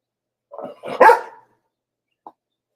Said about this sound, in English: Archer's growling again at Sable because she's up with me